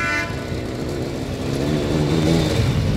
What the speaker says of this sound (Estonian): Ja teine sõjaväe mootorratas.